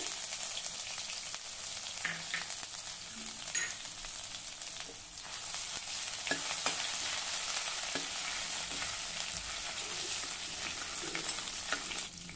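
Mustard seeds, cumin, crushed ginger and garlic fry in oil with a dense, steady sizzle, punctuated by light spoon stirs and scattered pops, close and continuous without any voices.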